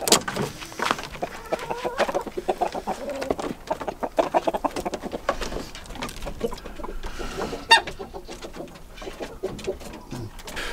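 Small long-legged bantam chickens cluck and coo in a backyard run, soft irregular calls scattered across the clip among faint ambient noise and occasional rustling.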